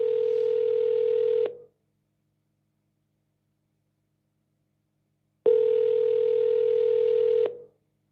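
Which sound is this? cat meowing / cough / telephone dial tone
telephone dial tone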